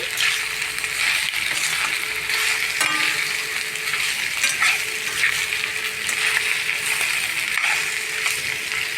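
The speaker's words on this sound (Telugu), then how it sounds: "ఇప్పుడు బాగా కలుపుకొని బాగా వేగించాలి" Brinjal curry with chilli powder, salt and turmeric being stirred and fried in a pan: a loud continuous sizzle with scattered spoon scrapes and clinks throughout, nobody speaking.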